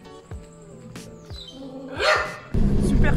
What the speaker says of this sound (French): Attention, ça va aboyer.